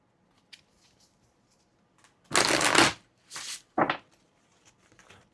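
Tarot cards are shuffled in a quiet room: three quick riffling bursts, the first longest, separated by short pauses, close and crisp, with faint small handling sounds around them.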